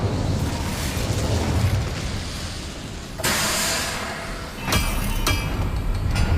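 An Incendio fire spell cast in Hogwarts Legacy, a loud fiery roaring burst under a dense, rumbling game soundscape, with sharper crackling surges that come and go.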